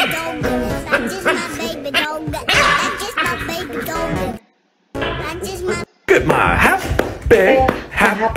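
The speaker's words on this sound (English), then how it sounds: "That's just my baby dog." A small dog barks and yips repeatedly at close range in an indoor home setting, the sharp barks mixed with a person talking and brief gaps of silence.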